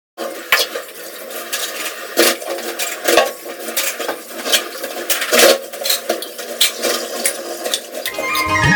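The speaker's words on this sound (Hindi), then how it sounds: "तो सारे बर्तनों को इकट्ठा कर लिया, फिर उनको साफ़ कर देते हैं।" Dishes, pots and pans from making papad and breakfast are washed together, with repeated close clinks, knocks and clatters of metal utensils at an irregular rhythm over a watery background.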